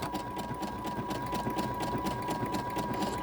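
A sewing machine stitches binding onto a quilt, its needle running in a steady close whir with a faint rhythmic pulse and a constant tonal hum, no talk over it.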